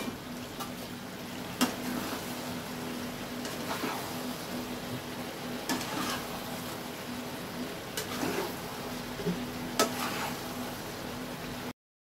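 A bottle gourd curry with potato, green peas, tomato and bay leaf gets stirred in a pan, soft scraping strokes recurring every few seconds over a steady low simmering sizzle, close and moderately quiet.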